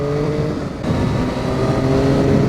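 A 2007 Triumph Street Triple 675 motorcycle engine revs loud and close, a steady sustained roar that dips briefly then climbs again, with no talking over it.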